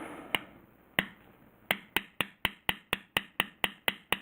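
A beveler tool struck for back beveling gives sharp, crisp taps, a few spaced hits and then a steady fast run of about a dozen evenly timed strikes, close and alone.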